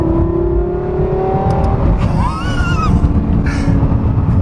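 Lexus LFA supercar engine, a loud close revving wail that climbs and falls in pitch through a couple of sharp throttle blips over a steady engine roar.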